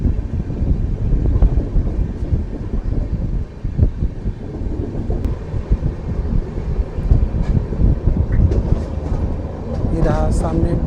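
Amritsar Ajmer Express rolling into Phagwara Junction, heard from on board as a loud continuous rumble with rhythmic wheel clatter and wind buffeting, a voice talking over it.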